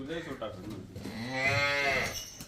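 A Jersey cow moos on a farm, one drawn-out, rising and falling call that sounds close and fairly loud against a little background noise.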